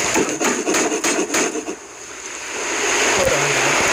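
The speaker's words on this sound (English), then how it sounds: "I'm gonna have to use my hammer." Hammer strikes in the survival video game Raft, a quick run of loud, evenly spaced knocks over steady ambient water noise, then a quieter stretch.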